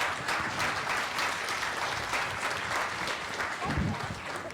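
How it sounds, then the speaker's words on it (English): An audience applauds a panel loudly and continuously, a dense wash of clapping throughout. "One more round of applause for our panel."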